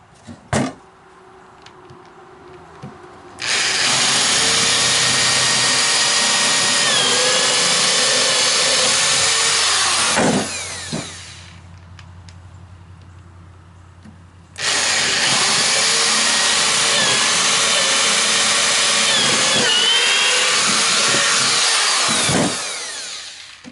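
Power drill boring into wood while building a wooden porch swing, two long loud bursts of several seconds each separated by a short pause, no talking.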